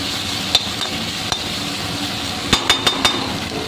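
Sabudana being stirred into cooked potatoes and tomatoes in a pan over a low flame: a steady soft background broken by a few sharp spoon clinks and scrapes, one early and a quick cluster of four near the end.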